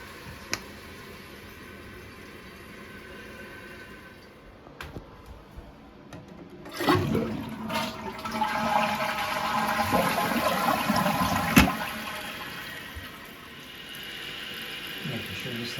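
A newly installed toilet flushes and its tank refills after the water is turned on: quiet hiss at first, then a loud swirling rush of water mid-way, settling into a steady filling trickle, with a brief clank nearby.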